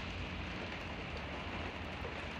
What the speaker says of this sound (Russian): На улице дождь идет.